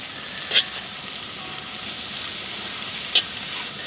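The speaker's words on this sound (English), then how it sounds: "let that saute a little bit, and I don't think you can see those little garlic pieces there" Garlic, cilantro and vegetables sauté in a pan with a steady close sizzle, broken twice by brief sharp clinks of a utensil.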